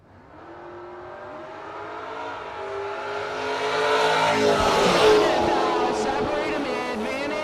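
A Fox Body Mustang and a 4th gen Camaro launch in a no-box drag race, engines revving and rising into a loud, building roar with a brief sharp burst near the end, while a track announcer talks over it.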